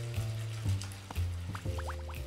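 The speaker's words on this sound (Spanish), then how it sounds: "Vamos a tomar un caliente baño de burbujas." Water sloshing and splashing in a bubble bath in an animated children's scene, a few short gurgling splashes with bubbly pops over a steady musical background, close and moderately loud.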